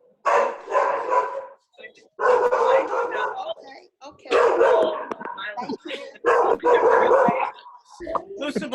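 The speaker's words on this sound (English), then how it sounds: "Someone's getting attacked by a dog." A dog barks and yips repeatedly in the background while several people chat and celebrate together over a group video call, the barking mixed under steady conversation and laughter.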